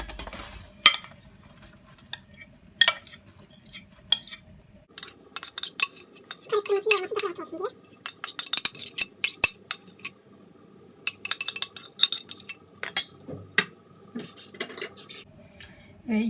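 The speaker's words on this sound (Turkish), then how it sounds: "Şimdi iç harcımızı daha büyük bir tepsiye boşaltıyorum." Köfte filling is emptied into a larger tray, heard as irregular metallic clinks, scrapes and clatters of a spoon against trays and dishes, close by, with quiet gaps between bursts.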